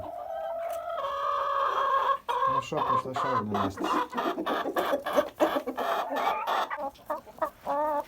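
Amrox hens clucking close by in a steady run of short calls, with someone speaking over them partway through.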